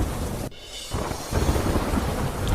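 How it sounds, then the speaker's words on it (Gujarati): Thunderstorm over Bhanvad town at night, a heavy crash of thunder with a rumbling roll and steady downpour of heavy rain throughout, loud and close. "ભાણવડ શહેરમાં મોટી રાત્રે વીજળીના કડાકા ભડાકા સાથે વરસાદ વરસ્યો"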